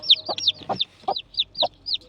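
Chickens clucking close by, including a yellow rooster, with a rapid run of short, repeated clucks and chirpy calls in a steady, busy rhythm.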